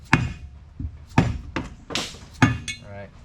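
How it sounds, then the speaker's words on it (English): Sharp metallic hammer taps driving a crank seal out of a Polaris Ranger 800/700 engine during a rebuild, about five irregular close knocks with ringing clinks between them. "We get in here, grab our hammer."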